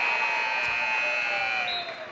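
Long, loud, steady electronic buzzer sounding at the end of a quarter in a high school boys basketball game, holding its tone for about two seconds before trailing off over faint gym noise.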